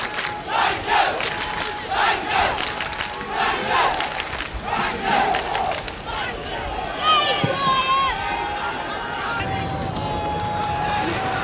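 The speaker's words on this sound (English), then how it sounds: "generous applause for 2 good sweeping moves there by Queen's Park Rangers" Football crowd at a 1971/72 Queen's Park Rangers match against Millwall roars and applauds in the stadium, a broad wash of crowd noise with swelling cheers, a commentator's voice running over it.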